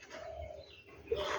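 Birds call close by, with a soft drawn-out coo followed by brighter chirps and tweets over faint background noise, with no voices.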